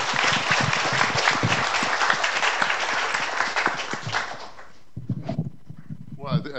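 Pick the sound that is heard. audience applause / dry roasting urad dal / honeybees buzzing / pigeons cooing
audience applause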